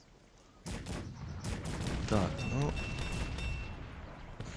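Artillery fire from cannon batteries in the real-time strategy game Cossacks 3 rumbles in dense, overlapping booms and crackling volleys, fairly loud, while someone speaks briefly over it.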